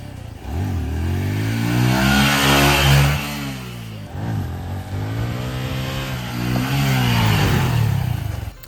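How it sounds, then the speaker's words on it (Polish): A Honda CRF 150 L motorcycle engine runs close by, its pitch rising and falling through a couple of revs with a rough, buzzing tone. "bardzo cicho w ogóle chodzi ten motorek"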